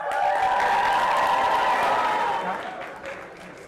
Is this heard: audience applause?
yes